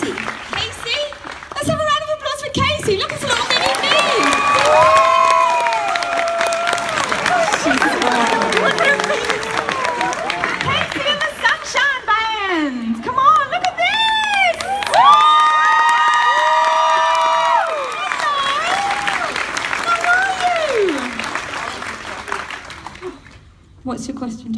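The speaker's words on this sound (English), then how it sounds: "Let's have a round of applause for Casey." Crowd at a Toronto fan convention panel bursts into sustained applause, cheering and high-pitched shouts for a young girl named Casey, loud and continuous throughout, with a few voices calling out over the roar.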